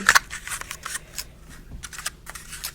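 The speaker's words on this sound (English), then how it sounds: "I am going to go ahead and open up this ribbon, and I'm going to grab some scissors really quick" Scissors snip through ribbon in a quick burst of sharp cuts at the start, followed by softer scattered handling noises and light clicks, close and quiet with no talking.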